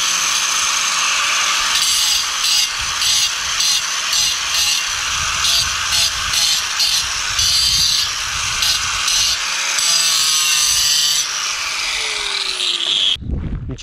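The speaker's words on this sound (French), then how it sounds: "vu qu'avec ce disque là ça va assez bien pour meuler, on va dire, je vais meuler tout ça, le faire lisse" An angle grinder disc smooths the edge of a paving stone in a loud, continuous high-pitched whine with gritty rasping, pulsing slightly as the disc bites, then cuts off abruptly near the end.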